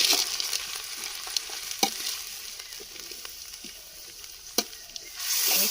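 Grated coconut and chana dal fry in a hot pan, a steady close sizzle with crackling pops and stirring scrapes, sharper bursts near the start and middle and a louder rush of sizzling at the end; no one speaks.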